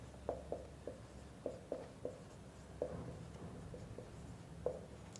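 Pen writing a math formula on paper, a series of distinct light taps and short scratchy strokes in an uneven rhythm, close and fairly quiet over low background noise.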